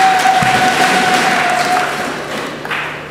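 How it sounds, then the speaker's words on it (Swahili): A church congregation claps hands together in a fairly dense burst of applause, with a faint tone sustained underneath and a few thuds, tapering off toward the end. "Pigeni sana Yesu makofi."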